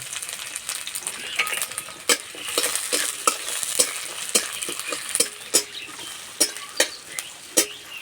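Chopped onion and green chilli fry in oil with garlic, giving a continuous close sizzle broken by sharp, irregular spatula scrapes and taps as the pan is stirred.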